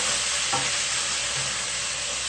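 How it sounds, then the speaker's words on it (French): A spoonful of soy sauce frying in a pan for jajangmyeon makes a loud, dense, unbroken sizzle close up, with a brief scrape of stirring early on. "Ça a pour conséquence de faire frire le soja"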